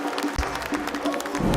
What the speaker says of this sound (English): Give him a round of applause here, folks.